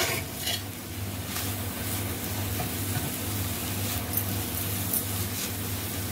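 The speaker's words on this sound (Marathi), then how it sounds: "आता अगदी ओपन मध्येच आपण 1 मिनिट अशी शिजवून घ्यायची आहे." Cowpea leaf vegetable cooks uncovered in a pan, giving a steady, even sizzle and frying hiss with occasional soft stirring clinks. A low hum runs beneath and no one speaks.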